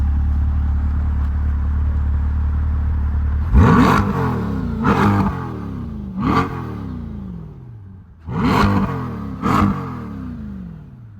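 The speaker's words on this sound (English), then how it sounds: "Go, rev it. Let's see how it sounds." A stock 2026 Chevrolet Corvette C8 convertible, around 500 horsepower, idles with a low rumble, then gets revved hard several times. Each rev is a loud, rising engine blip that falls back, close to the listener.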